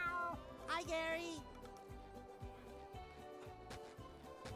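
A single drawn-out meow from Gary the snail in the video game SpongeBob SquarePants: Battle for Bikini Bottom – Rehydrated rises over a steady, rhythmic thumping backdrop, with a voice speaking around it; the meow sounds like a person imitating a cat.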